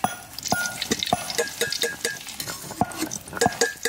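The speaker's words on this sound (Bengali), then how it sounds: "পেঁয়াজের বেরেস্তা ভেজে নিছি" Onions fry in hot oil for kabuli chicken rice in a village kitchen, a gentle sizzle under repeated rhythmic scrapes and metallic clinks of a spatula against the pan.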